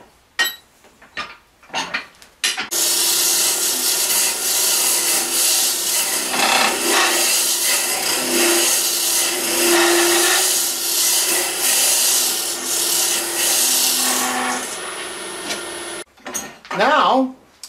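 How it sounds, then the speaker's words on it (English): Wood-turning tool hollowing the cup of a wooden wine glass on a lathe, a steady loud scraping rasp running for most of the stretch, starting and ending with short bursts of cutting and stops. "Now I can go back to the hollowing."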